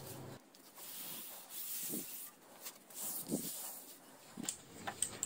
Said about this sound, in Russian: получился простой шлифовальный станок